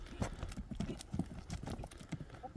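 A horse's hooves clip-clop in a quick, steady rhythm close by, with each hoofbeat distinct and no voices over it.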